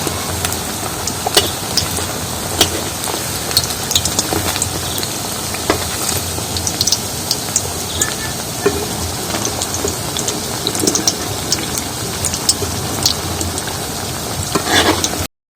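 Round tomato chops deep-fry slowly in a pan of oil, a continuous dense crackling sizzle with scattered pops that runs unbroken and close throughout, with no voices over it.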